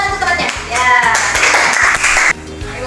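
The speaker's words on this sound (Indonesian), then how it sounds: "tepuk tangan untuk temannya" A classroom of students claps for a classmate, a dense burst of many hands lasting a few seconds and cutting off abruptly, with faint voices beneath.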